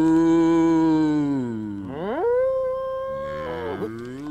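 A single cow moos out in the countryside, a long, loud, drawn-out low call that bends downward and rises again, close and alone.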